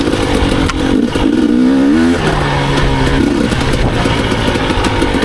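A GasGas EC250 enduro motorcycle engine revs hard and close, its pitch climbing and dropping through a few throttle blips with a steady clattering drone underneath.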